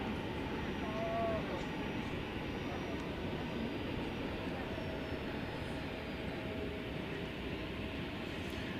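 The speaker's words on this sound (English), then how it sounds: "Another international flight going south, American Flight 2417 to Mexico City." American Airlines flight 2417, an international departure bound for Mexico City, takes off from runway 18 left at DFW as a steady, fairly faint broadband jet roar that holds level throughout, with a voice talking over it.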